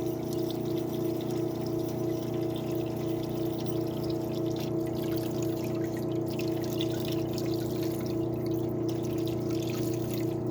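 Solvent hose flushing rocker arms from a 383 small block Chevy in a parts washer, a constant pump hum with steady running and trickling fluid, unbroken and close, with no voices.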